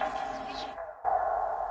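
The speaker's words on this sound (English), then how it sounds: "But the tape stop is before the reverb, so I still get this reverb tail." A tape stop effect on an electronic remix pulls the music down in pitch to a halt, then a reverb tail rings on after the cut, heard alone and up close.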